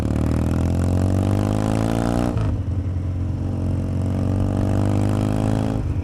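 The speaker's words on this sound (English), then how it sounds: "jump on a bike and make a little bit of noise" A motorcycle engine revs hard through rising gear pitches, drops abruptly as it shifts, then climbs again with a loud, close, throaty roar.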